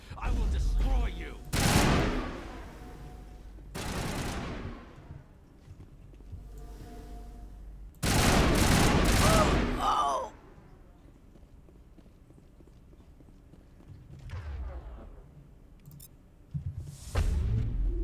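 Gunfire in a Mass Effect firefight, with bursts of shots in several loud clusters separated by quieter stretches, some speech-like sounds mixed in.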